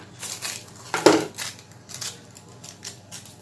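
A few crisp crunchy cuts through homemade brioche, with a louder crackling slice in the middle, close up and otherwise quiet.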